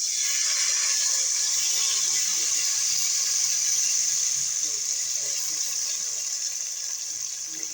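Tamarind juice pours into a hot pan of fried ingredients, a continuous hissing, sizzling splash that stays loud and steady for several seconds, close up with no voice.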